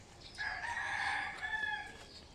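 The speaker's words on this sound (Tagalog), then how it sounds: "Kami rin may manok." A single rooster crow rings out at moderate distance on a small farm, a drawn-out cock-a-doodle-doo with no talking over it.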